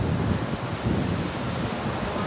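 Ocean waves rush steadily below a moving cruise ship deck in the Bahamas, mixed with loud, constant wind buffeting the microphone.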